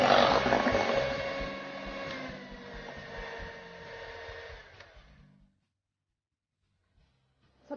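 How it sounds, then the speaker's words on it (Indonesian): Electric hand mixer whirring at high speed as it beats putu ayu cake batter until fluffy, a loud close motor drone that gradually softens before switching off, leaving silence. "Dikocok dengan kecepatan tinggi ya, supaya cepat mengembang."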